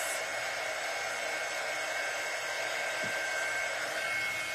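A hair dryer runs steadily and continuously, drying freshly layered ink on a shirt; the blowing hiss is close, loud and constant from start to finish with no talking over it.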